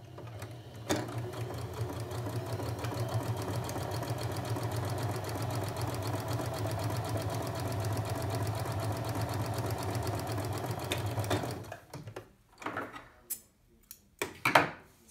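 A sewing machine runs a zigzag stitch along a fabric edge for a plain seam. Its hum and fast needle patter stay continuous and close for about eleven seconds, then stop, leaving a few handling clicks and rustles.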